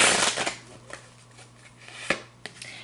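Tarot cards are shuffled by hand with a loud riffle at first, then scattered soft flicks and taps, close and otherwise quiet.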